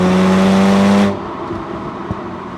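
A Mercedes A35 AMG drives along with the microphone clipped to its license plate. A loud, close engine drone mixed with wind and road roar suddenly drops to a steadier, quieter rumble.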